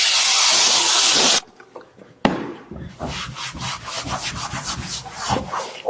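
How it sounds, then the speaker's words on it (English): Foam cleaner sprayed in a loud hiss, then a cloth wiping and scrubbing a dirty surface in repeated close rubbing strokes. "I spray on the foam, let it sit for a little while, and then wipe it with a cloth"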